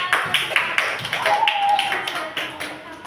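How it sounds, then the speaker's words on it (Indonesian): Second-grade classroom children clapping their hands in a rhythmic pattern of sharp, evenly spaced claps, close and fairly loud, with voices speaking alongside. "tepuk tangan"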